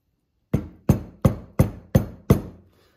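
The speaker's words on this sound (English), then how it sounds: "we're basically going to hammer it into that hole right there" Six evenly spaced, sharp hammer blows drive a pin into a hole in a wooden form for a take-down recurve bow, each strike close and loud with a short decay, after a brief quiet start.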